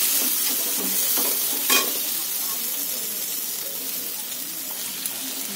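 Rezala masala sizzling and frying in a pan as water is added and the mixture stirred, a steady hiss with occasional splashes and clinks, close and fairly loud, no talking.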